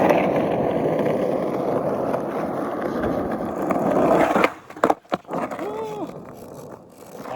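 Skateboard wheels rolling steadily on pavement while the rider goes switch, a continuous gritty roar with wind, then bumps and a fading roll near the end.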